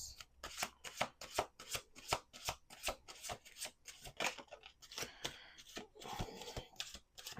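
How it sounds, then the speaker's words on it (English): Tarot cards being shuffled by hand at a table: a long run of crisp, rhythmic riffling bursts, close and fairly quiet, repeating about every half second with no talking. "Let's do two more shuffles."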